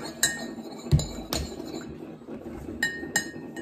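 A spoon clinks against a cup while stirring coffee with creamer, giving several sharp, light taps spread irregularly over a soft background, with no voices.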